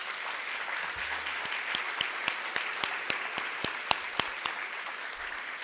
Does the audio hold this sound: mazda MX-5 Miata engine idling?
no